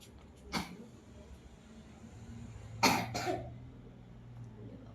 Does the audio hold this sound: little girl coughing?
yes